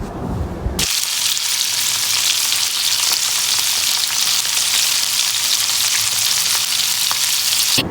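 Pieces of rohu fish rubbed with turmeric, chili powder and salt fry in hot oil, a loud, steady, dense sizzle that starts abruptly after a brief quieter moment and continues without talk.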